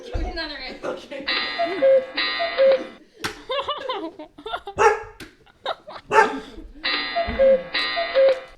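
A dog barking in short repeated bursts mixed with electronic chimes and tones, likely from a game, heard amid lively talk.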